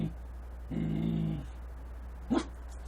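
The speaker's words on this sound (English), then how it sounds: "She has such a funny bark." A dog lets out a low, drawn-out growl lasting under a second, then a single short bark a moment later, close by over a steady background hum.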